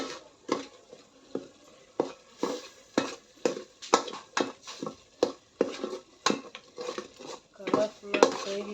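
Crab gravy with chicken masala stirred in a pot, a utensil scraping and clinking against the metal in a steady rhythm of about one to two strokes per second, close and clear with no talking.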